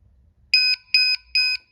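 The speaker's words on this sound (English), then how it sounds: "It'll beep 3 times." Three identical electronic beeps from a Gliderol Glidermatic garage door opener, evenly spaced and sharp, each lasting about a fifth of a second, with quiet in between.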